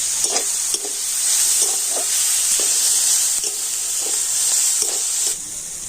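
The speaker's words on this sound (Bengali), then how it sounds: "একবার আমি ঢাকা খুলে আর সবজিগুলো একটু নাড়াচাড়া করে দেবো" Vegetable filling stirred in a covered pan on the stove for a Chinese-style stuffed bread, with a steady sizzle of frying under repeated scraping spoon strokes, close and continuous.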